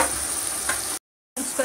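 Spices fry in a pan of oil for a spiced chana rice dish, a soft steady sizzle with light stirring, broken by a brief silent gap before the frying resumes.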